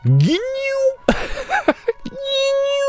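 A human voice imitates a cat, giving drawn-out meows with rising and falling pitch, broken by a short burst of noisy vocal sounds in between.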